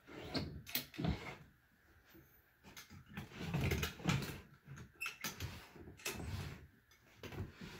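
A drawer slides open and shut several times nearby, with knocking clatters and soft rustling in a quiet room and no voices.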